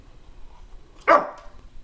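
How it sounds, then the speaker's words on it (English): A single sharp dog bark bursts out near the end of an otherwise quiet indoor moment, close and fairly loud. "What you barking at, buddy?"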